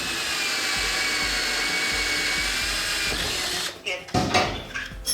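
A power drill bores into a garage wall beside a parked car to mount a UniFi G3 security camera, running steadily at close range for several seconds before stopping abruptly, followed by clattering and rustling as the bit comes loose.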